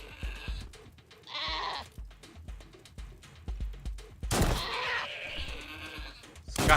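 Goats bleating in the video game Wasteland 3 during a combat encounter, with repeated bleats and cries among bursts of gunfire and impact noises, fairly busy and dense throughout.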